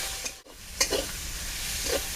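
Onions frying in a pan with cardamom, giving a soft, steady sizzle close by, broken by a few brief clatters and stirring scrapes, with no voices.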